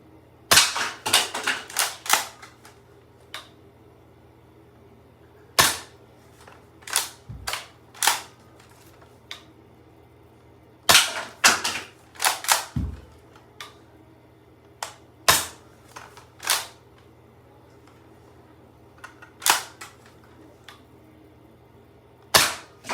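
A Nerf Pro Gelfire blaster fires gel rounds at targets: sharp snapping shots come in quick bursts and single cracks over about twenty seconds, close and loud, with no talking.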